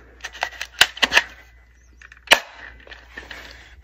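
Airsoft gun firing from a UK Arms magazine: a quick run of sharp, light snapping shots, then a single louder crack and a few softer clicks, recorded close with no talking.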